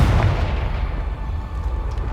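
A Confringo blasting spell explodes in Hogwarts Legacy, a loud, dense booming burst that rolls on as a sustained rumble for the whole stretch.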